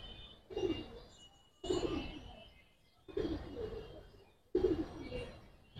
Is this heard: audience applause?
no